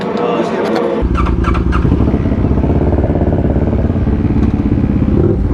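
A new motorcycle engine starts up and runs loud and close, a steady rumble that fills the whole clip. Faint high tones and a clatter come at the start, and some talk may sit under the engine.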